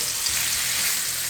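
Venison searing in a hot pan lined with peanut oil, with diced bacon in the cook, producing a dense, steady hiss of frying, loud and close with no voices.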